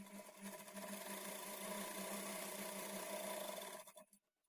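A sewing machine stitches a quarter-inch seam on a blouse lining, a continuous close motor hum with a rapid needle beat that runs steadily for about four seconds, then stops, with no talking.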